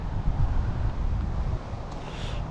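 Cold wind blowing into a microphone beside railway tracks, a loud continuous low rumbling buffet that eases slightly near the end.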